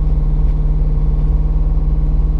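A wrecked Corvette C5 Z06 engine idles high at around 2,000 RPM, a loud, steady, throbbing low rumble heard up close on its own.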